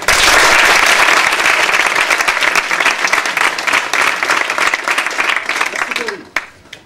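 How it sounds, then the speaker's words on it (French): Loud, full audience applause at a law school pleading competition final, dense clapping from a large crowd that holds strong, thins out and fades near the end, with a little voice noise underneath. "cet homme n'est pas une ordure et il mérite nos applaudissements."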